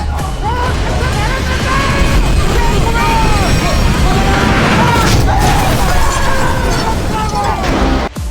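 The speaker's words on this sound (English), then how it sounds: "causing a violent explosion in the tunnel" A violent gas explosion rips through a mine tunnel, a loud, sustained roaring rumble with crackling bursts and shouting voices mixed throughout.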